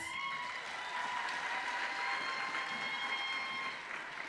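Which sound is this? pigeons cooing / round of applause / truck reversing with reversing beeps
round of applause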